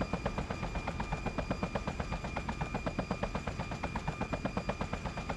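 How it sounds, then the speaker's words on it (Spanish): Rapid automatic gunfire in the video game Just Cause rattles steadily in a fast, even rhythm, continuous bursts over a droning engine-like hum. "¿De dónde vienen los disparos?"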